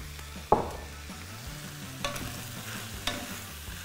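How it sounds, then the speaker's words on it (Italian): Tripe seasoned with salt and pepper browns in a pan, giving a quiet, low sizzle with a sharp clink near the start and a few soft utensil taps later, no voices. "Ora faccio rosolare per qualche minuto"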